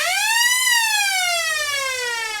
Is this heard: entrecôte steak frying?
no